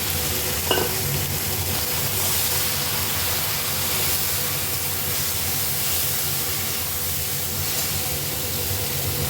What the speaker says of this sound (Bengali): এবার বয়েল করা ডালটা আমি দিয়ে দিলাম।